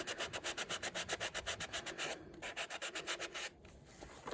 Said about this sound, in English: take your sandpaper or your sanding block, and you're just going to sand it.